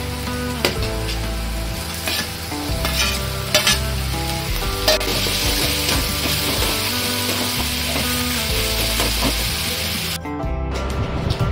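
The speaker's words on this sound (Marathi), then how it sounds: "आता ह्याच्यातच टोमॅटो जो कापलेला आहे तो टाकला." Chopped tomato fries in a pan for an Agri-style crab thali, giving a loud, steady sizzle with scraping stirs throughout, close and without talk, under a constant low hum.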